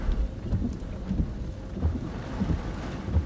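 A thunderstorm on the High Plains: steady rain patters throughout while low thunder rumbles roll in and out, with no voices.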